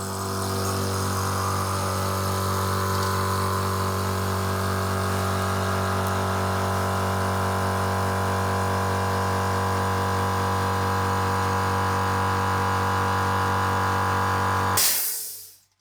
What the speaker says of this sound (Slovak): Kompresor po prvýkrát spustím z nulového tlaku na režime automatika.